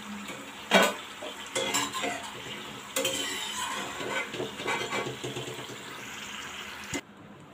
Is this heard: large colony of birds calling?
no